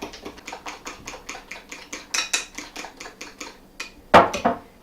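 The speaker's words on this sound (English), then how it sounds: "You do want to mix it until it's pretty creamy." Cream cheese filling mixed by hand in a bowl, a steady rhythmic series of knocking and scraping strokes of a utensil against the bowl, close, ending with a louder clack.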